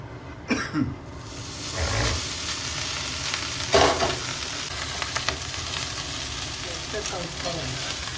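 Cooked rice is stirred into a sizzling cumin tempering in a pan for jeera rice, giving a constant hissing fry with scraping stirs and occasional clatter, and a short cough near the start.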